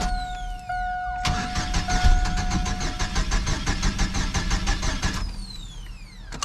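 A faulty GMC Sonoma pickup engine that will not stay running cranks with a fast, rhythmic starter chatter for about four seconds, then cuts out, heard up close with a steady tone in the background.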